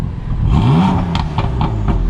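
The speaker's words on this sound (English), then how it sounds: "Zach's gonna do some baby revs, and then a big rev" A BMW M4 Stage 2 tuned to 550+ whp, fitted with VRSF downpipes and set in Sport Plus, revs once loudly and close, its pitch climbing and falling, followed by a few short blips and exhaust crackles.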